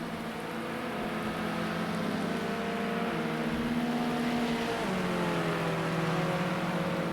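BMW touring cars race on the final lap in Project Cars 2 at Sakkito, a steady droning engine note with shifting pitch that rises and falls, moderately loud and alone without talk.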